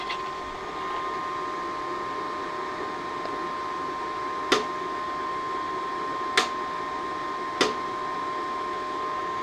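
An R-Tech Pro Arc 175 inverter welder's cooling fan runs on after switch-off, giving a steady whirring hum with a constant tone, broken by three sharp clicks or ticks.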